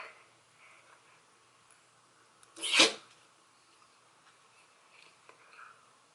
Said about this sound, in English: That was Wrigley sneezing